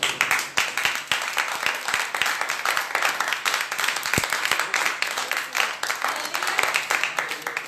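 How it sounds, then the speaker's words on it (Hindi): Sustained, dense applause from a church congregation during a Sunday service, steady and loud throughout, with many hands clapping at once. "इसके लिए हम जोरदार ताली बजाएंगे।"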